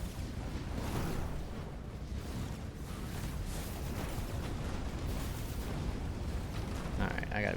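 Missile explosions in the arcade shooter Neon Striker, a dense, continuous rumble of overlapping blasts at moderate level without a break.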